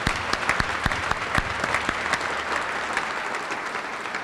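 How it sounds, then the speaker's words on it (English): Sustained applause from a large rally audience, steady clapping that stays fairly even throughout with no talking. "So let's do a round of applause for all the leaders with KYA and for Terry Brooks."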